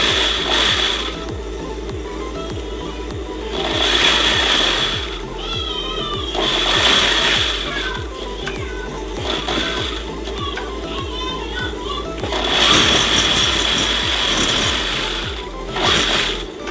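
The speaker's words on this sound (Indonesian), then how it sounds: "Baru kita jahit lagi bagian yang pakai karetnya." A sewing machine stitches the elastic waistband of a skirt, its needle rattling in quick continuous runs that speed up and pause, close and fairly loud.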